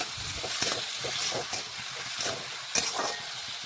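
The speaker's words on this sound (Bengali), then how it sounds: "এখন নাড়াচাড়া করে ভালোভাবে দেখুন মিশিয়ে নিচ্ছি" Spices and water being stirred and mixed in a hot pan, a continuous hissing sizzle with rhythmic scraping strokes and occasional louder knocks of the utensil, close and with no talking.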